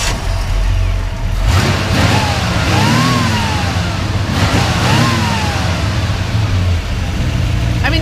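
A 1966 Ford F100 pickup with a four-speed is revved from idle in two clear blips that climb and fall back, then settles into a steady, close, loud low idle.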